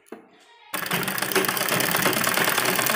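A sewing machine stitches a frill onto a baby dress, starting abruptly after a short spoken word and then running as a fast, steady, close mechanical whir.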